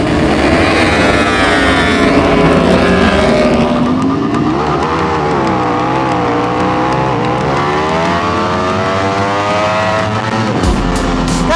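Amateur Supersport Open motorcycles race on a track, loud high-revving engines wailing and shifting pitch continuously as bikes pass close by, with no talk.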